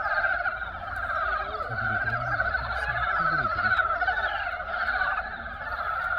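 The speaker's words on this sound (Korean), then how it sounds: "어 개구리 소리 안 들려?" Frogs in a wetland at Sikjangsan's Secheon Park in Daejeon, a thick continuous chorus of croaking and trilling calls, loud and near, with no voices over it.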